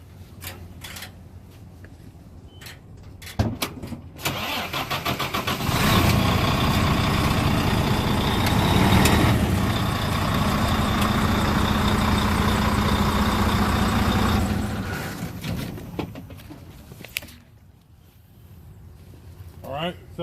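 A truck engine cranks and fires, then settles into a loud, steady low-pitched idle close by, with clicks before the start and the engine note dropping back near the end.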